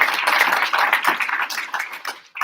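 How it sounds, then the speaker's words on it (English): An audience at a live Deal or No Deal business event gives a round of applause: a dense, steady patter of many hands clapping that thins toward the end, with no speech over it. "So first of all, give Calvin a round of applause for doing a deal."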